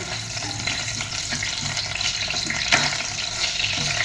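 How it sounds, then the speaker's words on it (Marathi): Ginger-garlic paste sizzles steadily in hot oil in a pan on a gas stove, a close, continuous crackling fry that holds an even loudness throughout. "तेल चांगलं तापू द्यायचं पीठ तापलेलं आहे त्याच्यामध्ये आलं लसणाची पेस्ट टाकलं"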